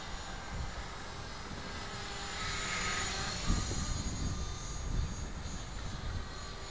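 An Align LH-450 flybarless RC helicopter with newly fitted Align parts flies nearby, giving a steady high-pitched rotor and motor whine with low wind buffeting underneath and no talking.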